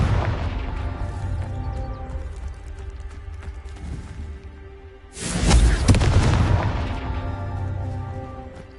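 In the video game Hogwarts Legacy, a Confringo fire spell sets off a loud, deep explosion midway through, with a booming burst that rolls and fades over a steady background of game sound.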